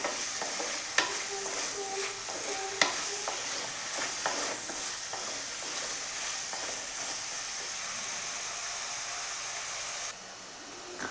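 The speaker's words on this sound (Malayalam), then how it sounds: "ഇനി അതിലേക്ക് നമ്മൾക്ക് മുറിച്ച് വെച്ച വെണ്ടക്കായ ഇട്ട് കൊടുക്കാം" Cut okra being stirred in a hot pan for okra pulissery curry, a steady frying sizzle with occasional scraping knocks of the spoon against the pan.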